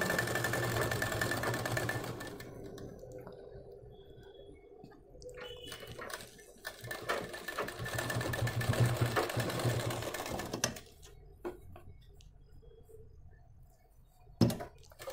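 A sewing machine stitches a blouse with a steady motor whir in several runs, close and moderately loud, broken by short pauses with light clicks and handling noises.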